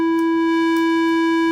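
A pure synthesized sine-wave sub bass tone, shaped with a touch of sine shaper, holds steady and loud for the whole stretch with no talk.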